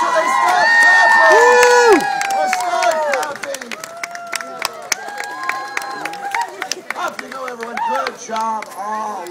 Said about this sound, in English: And final bow to applause.